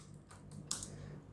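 A few soft computer keyboard taps typed into a web browser, faint and close, with one slightly louder click in the middle and a low steady hum underneath.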